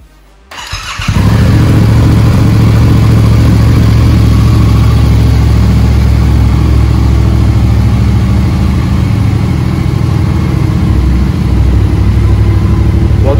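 A Yamaha Tracer 700 motorcycle fires up after a brief starter whir, then settles into a loud, steady idle as it warms up, close by and continuous, with a voice faintly beneath it.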